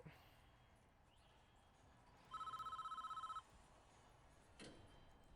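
In the Prison Architect video game a telephone rings once, a quiet, rapid electronic trill lasting about a second over low background hiss, followed by a brief soft knock.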